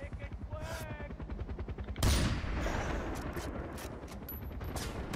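Rapid machine gun fire rattles in Far Cry, steady bursts of evenly spaced shots, then a heavier blast followed by continued gunfire and scattered pings, with someone talking over part of it.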